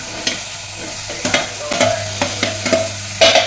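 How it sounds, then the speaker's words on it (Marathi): Chopped potatoes stir-fried with an onion-tomato masala in a pan, a spatula scraping and stirring in several distinct strokes over a low steady sizzle, close and fairly clear. "हे सगळं परतून घ्यायचं आणि त्यामध्ये हे बारीक चिरलेले बटाटे टाकायचे"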